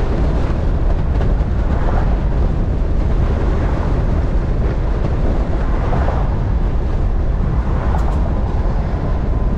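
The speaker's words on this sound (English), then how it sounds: "you can see we're taking the Shay Model A down the road" A loud, rumbling engine and heavy wind roar fill the air continuously, with a rhythmic pulsing as a 1980 Shay Model A replica car drives along the road.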